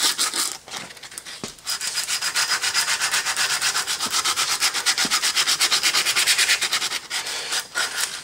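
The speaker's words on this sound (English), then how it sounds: "I like to sand in kind of a circular motion around the edge." Sandpaper rubs in a circular motion around the end of a copper pipe held in a vise. The close, rhythmic scratching swishes repeat quickly and steadily, with a few short pauses and no speech.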